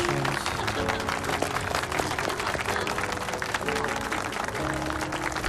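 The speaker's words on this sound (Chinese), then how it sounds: "让我们用热烈的掌声，有请最美丽的新娘登场" A wedding audience applauds as the bride makes her entrance, steady dense clapping filling the room throughout, with music tones running underneath.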